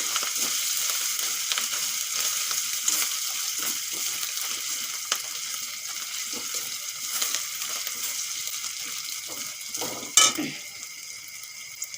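Ginger paste and turmeric powder fry in hot oil in a pan, a steady close sizzle with occasional stirring scrapes and one louder clatter near the end.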